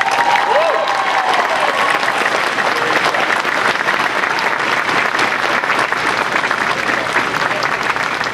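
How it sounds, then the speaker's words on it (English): A large crowd applauds after an oath of office at the inauguration of a Nevada governor, sustained loud, even clapping filling the whole span, with a brief whistle-like tone early on. "give them one big round of applause again"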